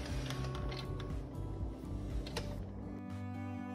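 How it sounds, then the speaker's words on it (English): A sewing machine runs continuously at a steady pace, stitching a long gathering stitch within a half-inch seam allowance on a Laurence top, with a close mechanical whir and rapid ticking that stops near the end. "we're gonna take this to the machine and do a long stitch, the longest stitch you can, to do a gathering stitch"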